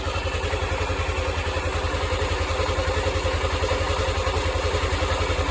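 Polaris XP 1000 side-by-side idling with a spinning one-way bearing, giving a steady, close, loud pulsing engine drone with a faint whine riding on top, no talking.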